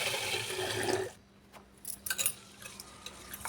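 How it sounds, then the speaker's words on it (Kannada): Water splashes and swirls briefly as rice is rinsed in a pot, then a quieter stretch of scattered small clinks and trickles in the container. "ಇದನ್ನು ನೀರು ಹಾಕಿ ನೀಟಾಗಿ ಎರಡು ಸಾರಿ ತೊಳಿಬೇಕ್ರಿ"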